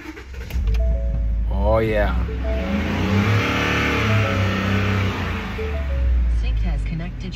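A Ford Coyote 5.0 V8 truck engine cranks and catches, rising in a quick rev before settling into a steady, loud idle that fills the clip, while a person speaks briefly over it.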